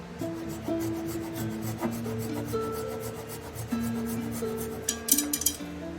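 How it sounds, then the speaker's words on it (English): A handsaw rasps back and forth across wood in quick, steady strokes, close and fairly loud, with a few light clinks near the end. "Then take your flush cut saw. This is a true flush cut saw"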